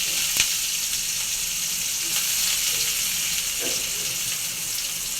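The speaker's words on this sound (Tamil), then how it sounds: "இப்போ எண்ணெய் காஞ்சிச்சுப்பா கடுகு மட்டும் தான் போடுறேன்" Mustard seeds and onion fry in hot oil for sambar, a continuous hissing sizzle heard close and steady, with a faint clink or two and no talk.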